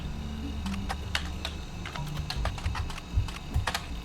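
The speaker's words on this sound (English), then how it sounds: "I've never typed in Uncle Junior" Computer keyboard typing while entering a name in the video game The Roottrees Are Dead, a fast, irregular run of close key clicks over a low background hum, with a couple of louder taps near the end.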